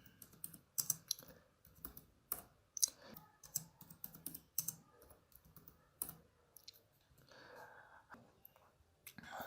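Rapid, irregular clicking of a computer keyboard as someone types HTML code, close and fairly quiet, with bursts of keystrokes spread across the whole stretch and no talking.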